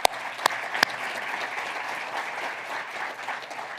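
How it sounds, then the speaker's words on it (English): A few sharp individual claps ring out first, then a luncheon audience breaks into steady, moderately loud applause that holds evenly for a few seconds. "So one more round of applause for them."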